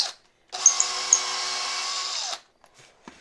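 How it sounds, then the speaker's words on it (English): A power drill spinning a wooden dowel whirs steadily for about two seconds, high-pitched and close, then winds down and stops. "Put this in your drill."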